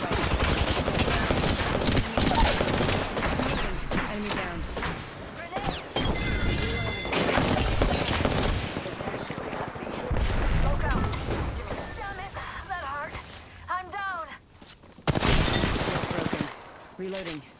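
Gunfire in Apex Legends, rapid bursts of automatic shots mixed with impacts and clattering game effects, loud and continuous with short breaks, with voice lines and talk under the action.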